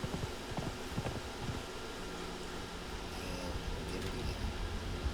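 Horse hooves clip-clop steadily as a mount travels in the Conan Exiles game, a continuous rhythmic patter of hoofbeats over a dense ambient bed, close and fairly loud.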